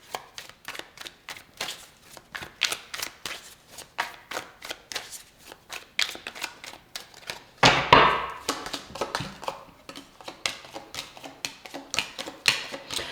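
Tarot cards are shuffled, drawn and laid out in rapid papery flicks and snaps, with a louder burst of riffling midway, close by and without speech.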